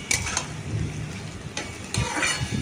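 Boiled potatoes are stirred into softened tomatoes frying in oil in a pan for a simple potato curry, with steady close sizzling and scraping stirs and occasional utensil clinks against the pan.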